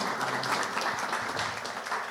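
Audience applause after a talk at a business convention, a brief dense wash of clapping from a crowd, steady and moderately loud with no voices standing out.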